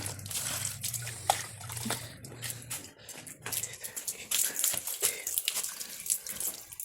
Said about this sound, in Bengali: বন্ধুরা গাছে জল দেওয়া শুরু করে দিলাম